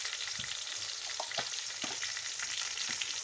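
Spices stirred into chana pulao in a pan, a steady bed of sizzling frying noise with a few soft scraping stirs and spoon knocks scattered through it, close and continuous, with no talking.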